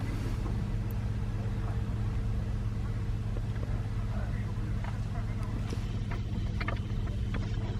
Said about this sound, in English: I think this is the last of the cars just coming out of the ferry there